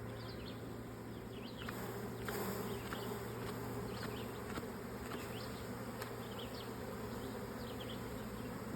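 Honey bees with a new queen hum and buzz around a hive in a steady, dense drone, with individual bees flitting close past now and then over a faint outdoor background.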